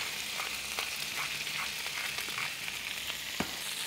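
Cod fries in a pan of lemon butter with zest, salt and pepper, giving a steady, close sizzle with small crackles and a soft tap or two of a spoon.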